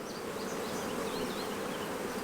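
Honeybees in an open hive, fed on sugar syrup, hum in a dense, continuous buzz that stays fairly soft and even throughout.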